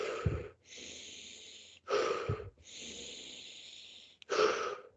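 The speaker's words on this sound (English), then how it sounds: "I'm really exaggerating the breathing so it comes across in the video." Exaggerated loud meditation breathing technique: deep, forceful inhales and exhales alternating in long noisy breaths, close and isolated with no talk.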